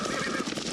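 Horses neigh in a brief, loud burst during a chaotic scene in a 1975 Czech drama film, a shrill whinny over rough, noisy commotion.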